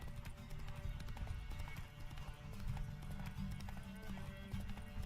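Horse galloping in The Witcher 3 video game, a steady, continuous clip-clop of hooves running through a forested field, loud and close with game ambience underneath.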